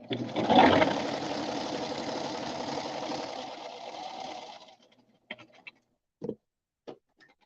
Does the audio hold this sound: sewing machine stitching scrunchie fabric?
yes